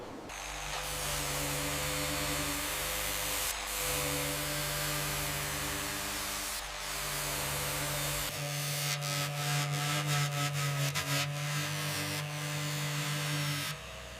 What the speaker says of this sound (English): The drum, once buried in rust, now receives its final cleaning before restoration.